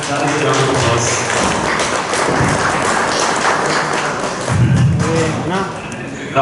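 Applause at a stage event for a product launch: a dense, noisy clatter of clapping hands, loud and close, with voices and cheers mixed in and some heavier thumps near the end.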